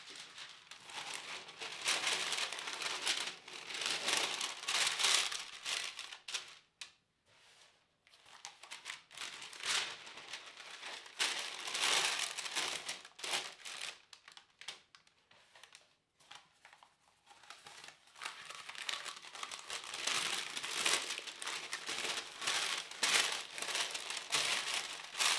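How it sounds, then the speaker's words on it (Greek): Non-stick parchment paper being pressed and folded into a baking dish, giving sustained close crinkling and crumpling with brief pauses and no voices. "Καλύπτουμε μία γάστρα με αντικολλητικό χαρτί."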